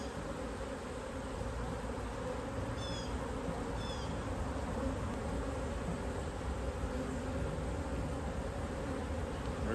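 Steady, close insect buzzing of many honey bees around a hive in fall, a continuous drone with no voices, holding level throughout.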